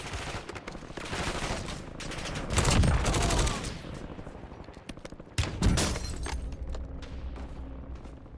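Gunfire and explosive booms crackle through a shooter video game match, with a dense rattling volley early, a heavy blast around the middle and another sharp burst later, loud and continuous throughout.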